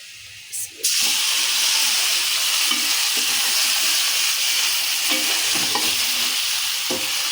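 Onion, garlic, beef and long beans stir-fry in a hot pan in a home kitchen, a loud continuous sizzle and hiss with scraping stirs, starting after a brief quieter moment and holding steady throughout.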